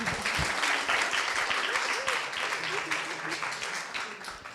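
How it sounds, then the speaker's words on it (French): A public audience at an oratory contest applauds steadily, a dense wash of clapping that fades slightly toward the end, with a voice briefly heard beneath it. "On peut les applaudir."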